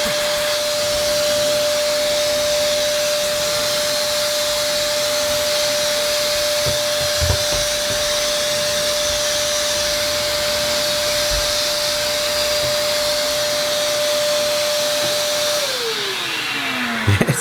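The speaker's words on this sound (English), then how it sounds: "And now, instead of sucking, we're blowing." A Black & Decker DustBuster Mini Vac running in blowing mode with hose attached gives a steady, loud, close whine with a constant pitch, winding down at the end.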